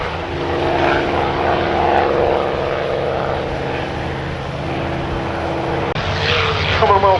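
Piston engine drone of North American P-51 Mustang warbirds at the Duxford Battle of Britain Airshow, a steady loud roar throughout with a brief dip near six seconds before the sound swells again.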